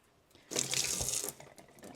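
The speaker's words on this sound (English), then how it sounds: "you turn the water up as high as it'll go" Water gushes from a kitchen tap turned up full over an egg, a loud, near rush lasting under a second before dropping back to a quiet trickle.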